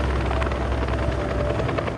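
A helicopter from the TV series Chernobyl flies overhead, its rotor chop a dense, loud, steady thrumming roar that holds throughout before cutting off abruptly.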